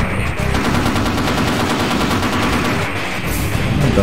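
Sustained automatic gunfire in the Half-Life video game, a loud steady rattle of rapid shots filling the whole stretch without pause.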